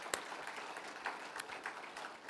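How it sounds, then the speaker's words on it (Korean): Congregation applauding together during a Sunday worship service at a Korean Full Gospel church, a steady wash of many hands clapping with a few sharper claps standing out, moderately distant and fairly soft. "그 성령 하나님께 우리 영광의 박수를 올려드리겠습니다"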